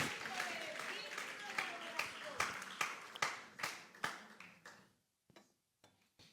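A church congregation applauds during a sermon, a dense wash of clapping that thins out and fades to a few scattered claps near the end.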